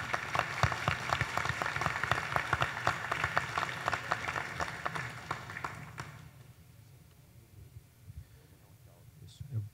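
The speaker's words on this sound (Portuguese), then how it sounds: "Eu peço uma salva de palmas aí para todo o trabalho que foi feito pela equipe." Applause at a health committee meeting after a hospital policy approval, a loose scattering of claps over room hum that thins out and stops after about six seconds, leaving a quiet murmur.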